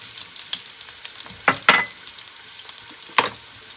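Venison steak and onions sizzle in a pan with a soft, continuous frying hiss, broken by a few brief scrapes and clatters of stirring, close and without talk.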